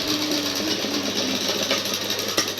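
A sewing machine runs steadily while stitching a saree pallu, a close, continuous mechanical whirr with a fine rapid rattle and no talking.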